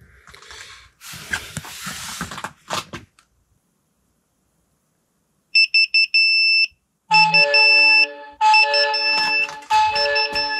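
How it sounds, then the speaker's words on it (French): A phone alarm from a DIY cold room temperature monitor rings in repeated bright electronic tone bursts, loud and close, following a stretch of quiet after some earlier noise. "vous avez une alarme comme ça qui vous sonne sur votre téléphone"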